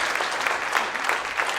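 Comedy club audience applauding a stand-up comic, brisk dense clapping with a few louder individual claps popping out, close and continuous throughout.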